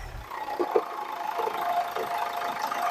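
A diesel car engine idles steadily at close range, a low even rumble with faint knocking, no one speaking.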